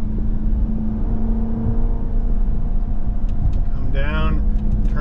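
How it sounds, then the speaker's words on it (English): Hemi V8 engine of a 2023 Dodge Durango R/T Premium AWD, a steady loud low rumble heard from on board while driving, with a brief higher whine near the end. "Love the noise coming out of this Hemi. Intoxicating, this V8 noise"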